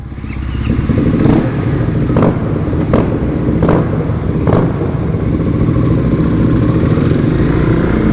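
A Kawasaki KLX351 dual-sport motorcycle rides on a paved road, its engine droning loudly and steadily with a few sharp clicks and clatters from gear changes. Wind noise runs underneath throughout.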